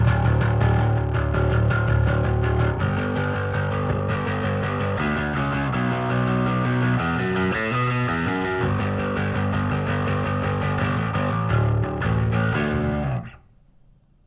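A bass guitar played through a heavily set distortion pedal rumbles out a thick, gritty, sustained riff at steady volume for about thirteen seconds, then cuts off abruptly to quiet.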